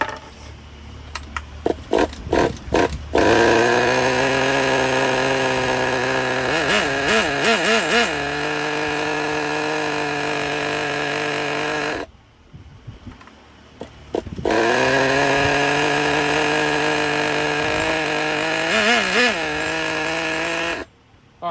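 A Traxxas Pro .15 nitro RC car engine being started and tuned, buzzing loud and high-pitched with revving swells, then cutting out for about two seconds before firing up again and running steadily.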